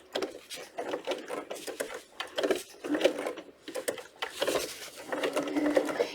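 A sewing machine runs in short bursts while stitching a custom book protector, a close mechanical whirring and rapid needle ticking that starts and stops repeatedly as the work is guided around a curve.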